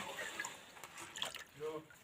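Water trickles and drips through a small sieve while homemade starch is made, faint and close, with light splashes and a quiet voice in the background.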